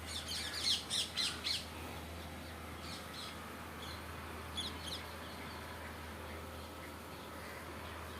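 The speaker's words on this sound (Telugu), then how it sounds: "పక్షులు అయితే మాత్రం ఎంత చక్కగా ఎగురుతున్నాయోనండి" Birds call outdoors in the distance, a quick run of harsh cawing squawks followed by fainter scattered calls over a low steady background hum.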